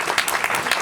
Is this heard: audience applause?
yes